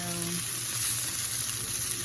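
Shrimp frying in a pan, a steady close crackling sizzle lasting a couple of seconds.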